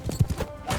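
Horse hooves clopping in a Mount & Blade II: Bannerlord siege battle, a few uneven thuds over a short stretch amid battle noise.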